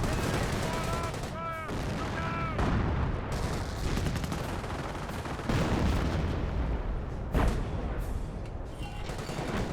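Priest self-propelled artillery firing in the World War II strategy game Company of Heroes, heavy booms and blasts repeating amid continuous battle noise and gunfire, with commentators talking over it.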